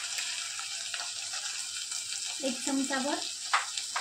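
Ginger-garlic paste sizzles and fries in a pan with onions, a steady close hiss with some stirring, while someone speaks briefly over it.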